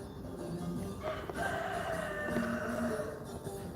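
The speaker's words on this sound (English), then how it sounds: "You can hear the rooster just now." A rooster crows faintly in the distance at an outdoor spot in Istanbul, with a few drawn-out calls over a low ambient background.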